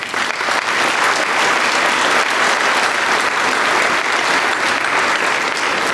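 A crowd at an opening ceremony claps steadily and loudly, a dense, even wash of applause sustained for several seconds without voices.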